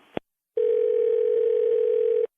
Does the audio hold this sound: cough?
no